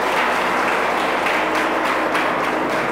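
Steady, dense applause from an audience at a coaching institute event, continuous and fairly loud across the whole stretch with no pauses.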